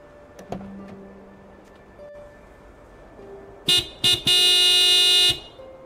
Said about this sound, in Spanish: hemos arreglado el claxon. Ya lo oigo.